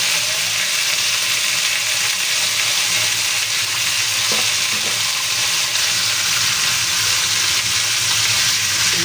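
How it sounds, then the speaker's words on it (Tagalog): Chicken frying in hot oil until golden brown, a loud, steady crackling sizzle that runs unbroken throughout, with a few faint clinks of stirring. "Golden brown lang po natin yung ating chicken."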